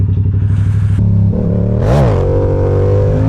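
A motorcycle engine revs hard and clatters up close during a wheelie attempt on a gravelly spot, pitch climbing and dropping in a loud burst with mechanical rattle throughout.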